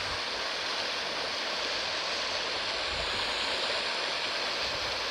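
A waterfall pours steadily beside lush green trees, giving a continuous, dense rushing roar of falling water that stays close and even throughout with no voices.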